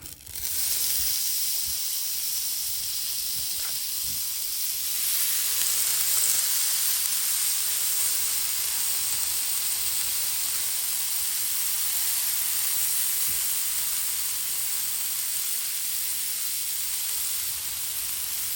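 Sea scallop skewers sear in oil on a hot Blackstone griddle, a loud, steady hiss and sizzle that swells after a few seconds and holds without talking.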